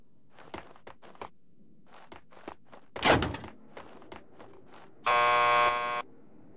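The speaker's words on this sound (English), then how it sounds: "Just press the buzzer by the door." In Max Payne 2, a door buzzer at a police lockup sounds as one harsh, loud, one-second electronic drone, after a series of footsteps and a dull thunk.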